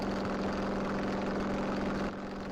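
A motorcycle engine while riding gives a loud, steady droning hum with a close, even pulse. It drops slightly in level near the end.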